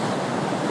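A fast-flowing, rising river rushes past, a steady, broad roar of turbulent water close by with no voices heard.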